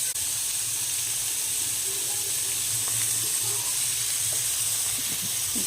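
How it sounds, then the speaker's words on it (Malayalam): Sliced onion sautéing and being stirred in a pan for a potato and green pea curry, a steady hiss of sizzling oil running throughout with faint occasional scrapes, no voices. "സവാള കൂടി ചേർത്ത് ഒന്ന് ഇളക്കി കൊടുക്കാം."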